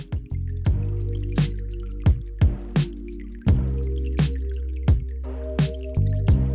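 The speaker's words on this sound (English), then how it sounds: "mix this up till you get a very smooth consistency" A white sauce with lemon juice, parsley and spices is mixed briskly, giving a rhythmic series of close wet squelching taps, roughly a dozen in a few seconds, over a low steady background hum.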